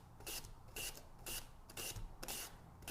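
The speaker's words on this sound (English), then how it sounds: "It is the sound of onions being cut into the tiniest slices." Onions are finely sliced on a slicer blade in quick, rhythmic rasping strokes, about six swipes in three seconds, faint and close with no voice.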